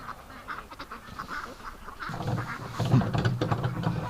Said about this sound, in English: Just look at that for a mess of ducks, eh?